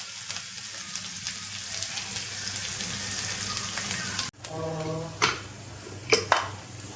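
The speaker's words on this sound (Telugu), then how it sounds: "కొత్తిమీర నేను కూడా తాలింపులోనే వేసేస్తాను," Coriander leaves hit hot tempering oil for a mango and tomato dal, giving a steady hissing sizzle, then a sharper burst of crackling with a few clinks of a pan or utensil near the end.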